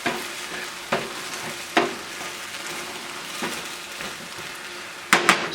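Thai basil tofu sauce thickened with cornstarch simmers and sizzles in a pan as a steady, close bubbling hiss, broken by a few sharp clinks of a utensil against the pan.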